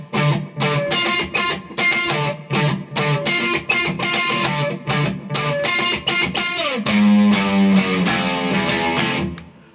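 Distorted electric guitar playing the chorus of a song, busy driving rhythm of choppy picked chords and single-note runs, close and loud with no voices.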